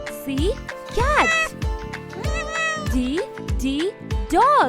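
A cat meows repeatedly in a steady series of loud, close, rising and falling cries, several distinct calls filling the short stretch with little pause between them.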